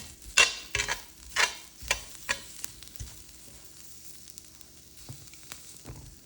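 Onions and garlic toast on a hot plancha as a spatula scrapes and flips them in several sharp bursts, then the sizzle settles to a quieter hiss, with no voices.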